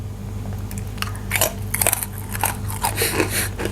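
Crispy baked vegetable chips are bitten and crunched up close, with a quick run of sharp, brittle crackles and bites over several seconds and no talking.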